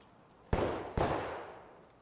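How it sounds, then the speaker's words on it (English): Two sharp, loud gunshots about half a second apart in the video game Escape from Tarkov, each with a deep low-end boom and a long fading reverberant tail, no talk. "That low frequency gunshot, I was able to hear really well."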